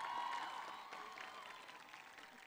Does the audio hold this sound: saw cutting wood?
no